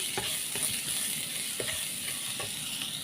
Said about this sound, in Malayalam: കുറച്ച് ഉപ്പും കൂടി അങ്ങോട്ട് ഇട്ട് കൊടുത്തിട്ട് നമുക്ക് വഴറ്റിയെടുക്കാം